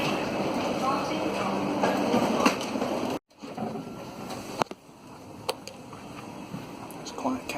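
A train pulls into the platform at Fareham station with a broad, steady rumble that cuts out abruptly, then returns lower with scattered clanks and clicks under background station noise.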